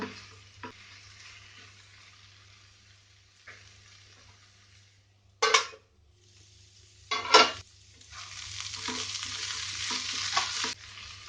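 Okra sautés in a pan while a spoon stirs it in a few scraping bursts, each followed by a rising, close sizzle that swells louder near the end.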